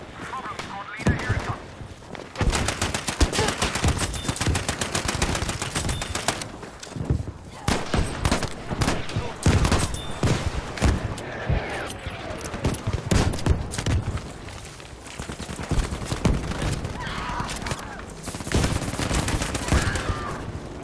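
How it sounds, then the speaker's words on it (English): Heavy gunfire and explosive blasts from an artillery barrage in the video game Battlefield 5, a dense run of repeated loud impacts and crackling shots for about twenty seconds, with voices shouting over the din. "Artillery barrage!"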